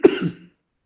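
A single short, close cough, one sharp burst with a brief rough tail, then silence.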